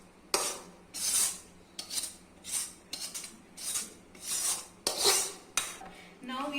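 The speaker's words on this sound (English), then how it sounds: "Now we are going to thoroughly mix the vegetables in the batter." Chopped vegetables are mixed thoroughly into paddu (appe) batter in a bowl, heard as about eight rhythmic scraping, stirring strokes of a utensil against the bowl, close and distinct, with no voices.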